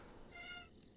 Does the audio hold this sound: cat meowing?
yes